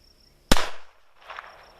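A single sharp gunshot from a Taurus TX22 .22 pistol, a loud close crack with a short decay, followed by a faint clatter.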